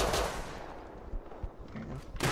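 Pistol shots in the survival game Rust, a few sharp cracks scattered through a couple of seconds over a noisy game background, with the loudest report near the end.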